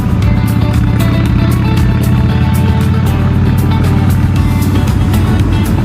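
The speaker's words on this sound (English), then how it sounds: "Trying to ride a motorcycle here." A Harley-Davidson Softail Springer with Big Shot Staggered exhaust rumbles loudly and continuously while riding on the road, a deep steady engine drone with wind buffeting throughout.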